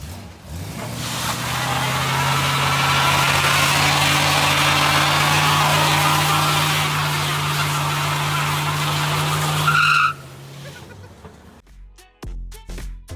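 NASCAR stock car on Corvette wheels and tires roaring loudly and steadily for about ten seconds, a sustained engine drone with a high screeching layer like tire squeal, then cutting off into scattered clatter.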